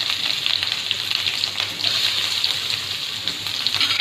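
Green chilli and chopped onion fry with ginger garlic paste in hot oil for cutlets, a steady, loud, close sizzle hissing continuously without pause.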